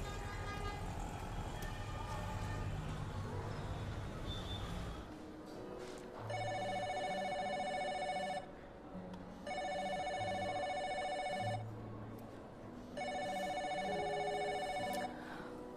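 A telephone rings in three long electronic trilling bursts with pauses between them, quiet and alone after a stretch of low background noise.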